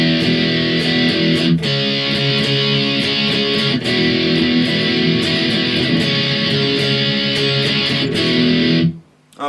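Distorted electric guitar strums the chorus of a song, loud and steady, with brief pauses between chords before it cuts off at the end.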